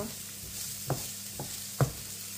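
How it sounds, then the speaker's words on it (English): Spring onion and onion are stirred as they fry in a pan, a steady soft sizzle running under a few distinct scraping strokes of the stirring utensil, close by and without voices. "then you start to mix so you mix it all well and then just keep mixing your"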